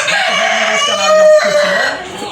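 A Russian Kuchinsky Jubilee rooster crowing up close, one loud drawn-out crow with a rising middle and a trailing end.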